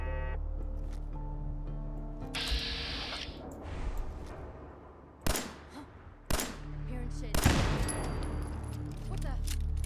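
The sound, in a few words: turrets firing in video game Fallout 4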